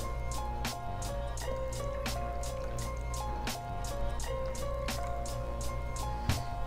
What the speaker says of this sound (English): Top it off with some champagne.